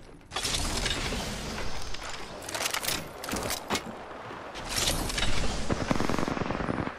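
Rapid bursts of automatic gunfire in Apex Legends, loud sharp cracking volleys in several clusters with short gaps between them, layered over mechanical rattling.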